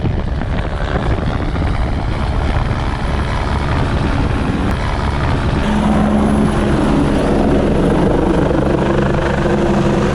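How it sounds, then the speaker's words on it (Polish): A rescue helicopter circles low overhead in the Caucasus mountains near North Ushba while attempting to land in strong wind, its loud rotor thrum and engine whine steady and close throughout, with a rising tone in the second half. "Pilot kilka razy przelatywał nad nami i przymierzał się do lądowania"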